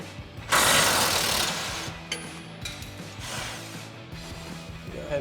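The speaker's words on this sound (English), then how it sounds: "just your 15 mil socket on your impact. So you want to support your shock, and then go ahead and run this bolt off." An impact wrench with a 15 mm socket runs a rear shock bolt off a Ford F-150 pickup, giving one loud rattling burst that tapers into quieter mechanical clicking.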